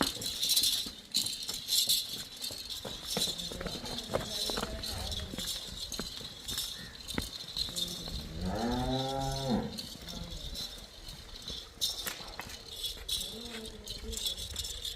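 Outdoors at a dairy farm selling cows, a cow gives a single moo around the middle, surrounded by hoof clatter, rattling and people talking.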